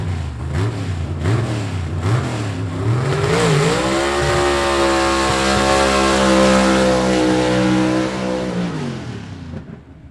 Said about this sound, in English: Nice pass right there by Todd Wimberly as he takes that car down the racetrack.